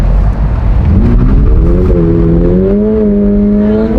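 A new 2022 Subaru BRZ engine turns over and fires, then revs up, its tone climbing steadily in pitch and holding a loud, close, buzzing drone heard from inside the car.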